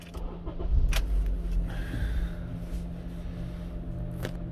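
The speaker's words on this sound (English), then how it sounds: "I'm gonna start the car." A 2007-2011 Honda CR-V engine cranks and catches, a low rumble rising near the start and then settling into a steady idle, with a couple of sharp clicks over it.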